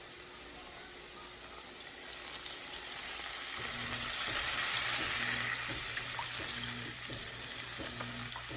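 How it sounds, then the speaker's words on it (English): Chicken and potatoes sizzle and fry in a pan while being stirred, a steady close crackle. Soft repeated scraping taps come in the second half, with no talk. "Just stir it for a minute"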